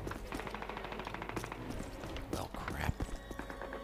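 Rapid automatic gunfire crackles through a Call of Duty match in bursts of repeated shots, mixed with game effects and someone talking over the action.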